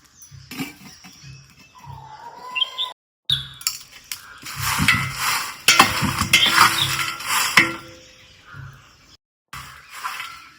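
Chillies stirred and dry-roasted in a pan before oil goes in, with bursts of rattling, scraping and crackling, short silent gaps between them and a few faint squeaks.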